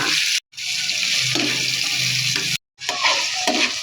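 Sliced bitter gourd (ampalaya) dropped into a hot pan with garlic and tomatoes, giving a steady close sizzle and hiss. Two brief cut-outs break the sound.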